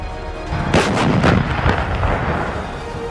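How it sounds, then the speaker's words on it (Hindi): A K9 Vajra 155 mm, 52-calibre self-propelled howitzer weighing 50 tons fires, giving loud, booming blasts in quick succession followed by a dense rolling rumble that continues to the end. "155 mm की 52 कैलिबर वाली 50 टन वजनी इस तोप से 47 किलो का गोला फेंका जा सकता है"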